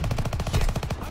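Kar98k sniper rifle fires in a multiplayer shooter game, heard inside a rapid burst of close, loud gunfire cracks over a little over a second.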